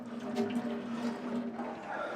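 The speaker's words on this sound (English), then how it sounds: "So I'm just going to drain the excess water off that now." Excess cooking water pours off a pot of tortellini in a home kitchen, a steady close rushing splash that runs for about two seconds.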